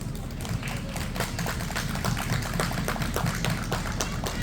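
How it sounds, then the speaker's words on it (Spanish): Audience applause at the book launch of the children's book ¿Y por qué llegó el invierno? for author Ana María Güiraldes, a steady dense patter of many hands clapping indoors, sustained at even loudness. "Un gran aplauso, por favor, para Ana María Guiraldes."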